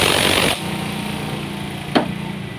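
An impact wrench works on the CVT of a Vario 125 scooter, with a loud buzzing hammer burst that stops abruptly, leaving a motor humming, then a brief sharp knock.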